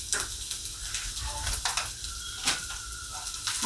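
Garlic and grated ginger sizzle steadily in a pan, a broad hiss with a few sharper crackles and stirring scrapes, fairly close, with a voice speaking over it.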